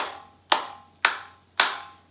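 Children clap in the pauses of a sung rhythm, three sharp, evenly spaced claps about half a second apart. The claps are fairly soft and sit over a faint low hum, with no singing or speech in between.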